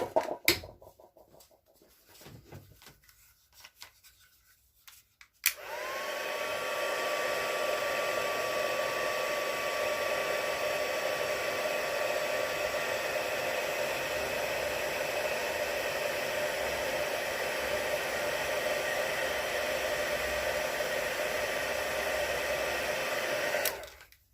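A heat tool whirs steadily and loudly for close to twenty seconds, melting white embossing powder on a stamping craft project, after a few quiet seconds of handling noises.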